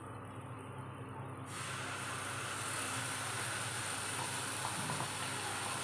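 Ground spice paste hits hot butter in a pan and a steady, fairly loud broadband sizzle starts partway through, replacing a quieter hiss and continuing without a break to the end.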